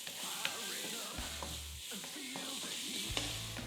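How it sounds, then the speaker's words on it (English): Smoky veggie rice with chilli sizzling in a pan while a spoon stirs it, a quiet steady fry under soft scraping and a few light clinks, close but low in level. "Give that a stir around."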